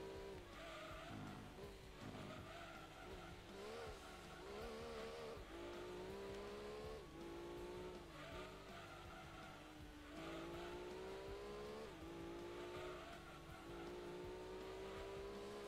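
A race car in Gran Turismo 2 driving hard, its engine droning and climbing through repeated rising revs between gear shifts, with tire squeal and a steady loud whine throughout.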